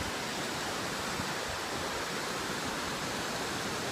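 Steady roar of Turner Falls, a waterfall about 77 feet high, as a continuous broadband rush of falling water heard alone from close by without pause or talk.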